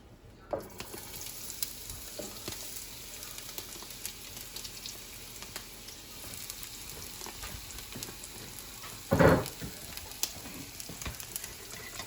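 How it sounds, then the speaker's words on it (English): Chopped onions frying in a pan, a soft steady sizzle running under the whole stretch with a short louder crackle burst near the end, no talking. "now we're going to add our onions into my pan"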